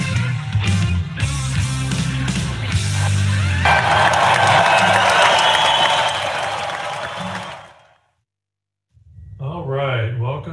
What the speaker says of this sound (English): I just assume y'all cheer when the class starts at the end of the song.